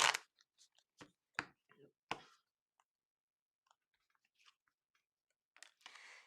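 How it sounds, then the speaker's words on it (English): Tarot cards being shuffled by hand in a quiet room, a few sharp riffling snaps followed by softer scattered flicks and a closing burst of card noise, close and fairly faint. "I'm shuffling."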